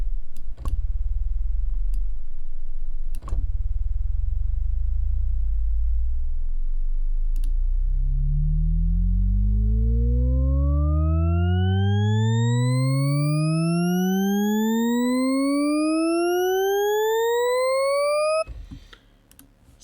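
A synth riser built in the Serum synthesizer opens on low thumping pulses, then a bright harmonic tone sweeps steadily upward for about ten seconds and cuts off abruptly near the end.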